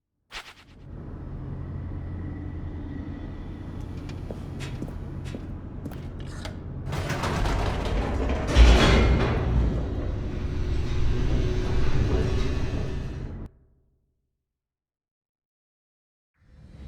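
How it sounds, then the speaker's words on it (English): An elevator plummeting downward in the video game The Stanley Parable: Ultra Deluxe: a low mechanical rumble grows, surges into a loud whooshing roar midway, then cuts off abruptly into silence. "The elevator raced downward, plummeting towards an unknown fate."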